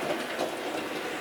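A model A.H. Peppercorn locomotive runs smoothly around its track after a clunking fault was fixed, a brief, soft, continuous rolling rattle of small wheels with no voices.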